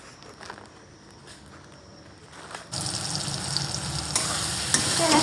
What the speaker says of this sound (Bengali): আমার আলু ভেজে রেখে দিতে হবে এখন